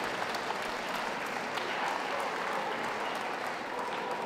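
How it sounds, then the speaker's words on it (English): Continuous, even applause from spectators around the ring at a city dog show's toy group judging, a broad wash of clapping that holds steady throughout. "Can we have a round of applause for those leaving the ring?"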